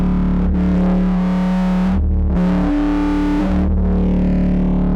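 A loud, sustained distorted FM synth tone, gritty and buzzing, with its timbre shifting and briefly dropping out a couple of times, no voices.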